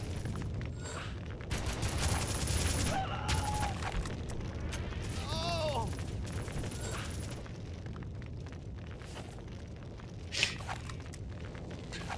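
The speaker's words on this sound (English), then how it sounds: "SMG is the best weapon." Submachine gun fire in a video game rattles in short bursts amid booms and whooshing effects, fairly quiet and layered with other game sounds, tapering toward the end with a sharp pop.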